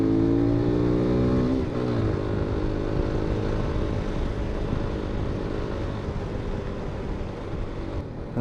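A car accelerating along a road, a steady engine drone with a rising tone that shifts gear around two seconds in, then settles into a continuous rumble of road and wind noise, close and fairly loud.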